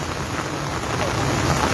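Torrential rain pours down in Jammu as a loud, dense, unbroken hiss of falling water, close and steady throughout with no voices.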